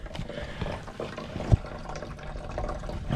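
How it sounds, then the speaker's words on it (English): Water runs and trickles into a campervan's waste container at a campsite, a steady close-up splashing flow with one sharp knock partway through. "I'm getting a lot of water into the waste container."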